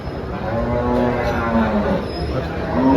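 Several cows moo in low drawn-out calls, overlapping one another against a busy, noisy crowd at a cattle market in Dhule.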